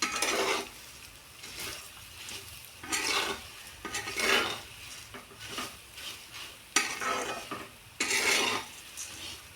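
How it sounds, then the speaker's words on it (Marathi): Puffed rice bhadang being stirred and tossed in oil in a pan, giving repeated sweeping scrapes and a light sizzle in rhythmic bursts, close up with no talking. "त्याच्यातलं तेल आपल्या नजरेच्या आड होईपर्यंत आपल्याला त्याला परतायचं आहे"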